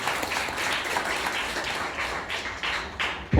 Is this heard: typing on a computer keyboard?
no